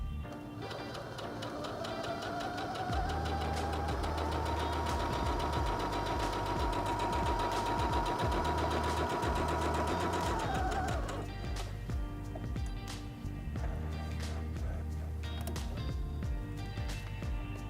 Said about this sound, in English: lower the presser foot lifter, and step on the foot control to start sewing